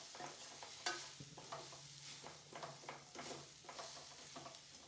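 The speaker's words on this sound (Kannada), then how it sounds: "ಡ್ರೈ ಮೆಣಸು ಹಾಕ್ಕೊಂಡು ಒಂದು 30 ಸೆಕೆಂಡ್ ಫ್ರೈ ಮಾಡ್ಕೊಳ್ಳಿ ನೀಟಾಗಿ" Dry chillies frying in a pan for mutton sambar, a soft continuous sizzle with light stirring scrapes, quiet and without talk.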